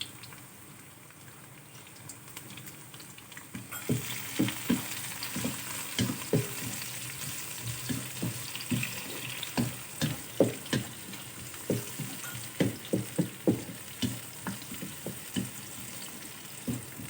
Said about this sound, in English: at the same time, I'm also going to throw in the red chilies.